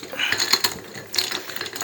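A 15 mm socket ratchet loosens the fan over the input shaft on a John Deere Z920M Hydro mower, with close, rapid clicking pawl bursts in two quick runs.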